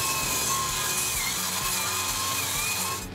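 A power saw cuts through Manticore recycled plastic lumber, a loud, continuous, close buzzing rasp that tapers slightly at the end, with no speech.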